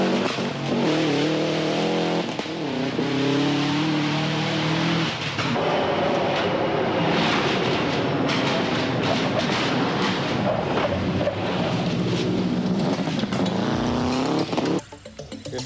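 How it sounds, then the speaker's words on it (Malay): Rally cars at the 1998 Petronas Malaysian Rally Championship roar loudly along a palm oil estate stage at Sepang, engines revving and accelerating continuously with shifting pitch, close and dominant throughout, with a brief dip near the end. "deruman enjin kereta peserta mula memecah kesunyian ladang kelapa sawit"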